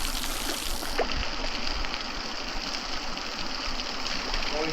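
Hot spring water near Hoover Dam pouring down like a shower, a steady broadband rush and splatter, close and continuous throughout.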